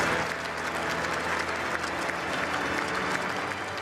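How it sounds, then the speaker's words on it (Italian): Long, dense applause from a crowd in the square and inside Duomo di Milano during a funeral, sustained and even throughout. "Un lungo applauso, iniziato nel piazzale del Duomo di Milano e proseguito all'interno"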